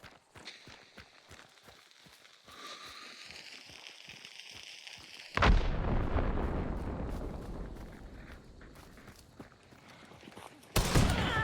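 Gunfire and explosive blasts from the video game Hunt: Showdown: a sudden loud detonation mid-clip with a long rumbling tail, then another sharp blast near the end, after quieter footstep-like taps.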